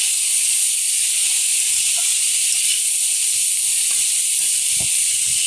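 Turmeric and slit green chillies sizzle steadily in a pan of fish curry, a constant hiss of frying with a few soft clinks and stirring sounds underneath, no voices.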